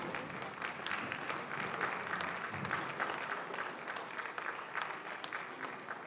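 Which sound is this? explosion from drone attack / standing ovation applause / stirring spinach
standing ovation applause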